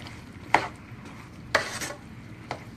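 A utensil stirs ratatouille of peppers, onions, zucchini and tomatoes in a pan, with three distinct scraping strokes about a second apart, close and fairly clear over a quiet background.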